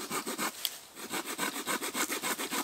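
Hand saw cutting through wood at a solo camping site, steady rhythmic back-and-forth strokes, close and clear, with no talking.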